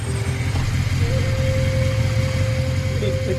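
A motorcycle engine idles close by with a steady, low, continuous rumble and no revving, joined by a faint thin tone partway through.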